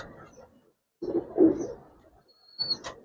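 Giribaz pigeons coo in soft, low bursts with short gaps between them, close by, alongside a faint higher chirp near the end.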